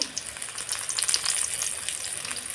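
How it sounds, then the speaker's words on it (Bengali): Momos deep-frying in hot oil, a bright, dense crackling sizzle with fizzing bursts, close and continuous, no voices. "দেখুন তেলের মধ্যে ভাজা চলছে মোমো।"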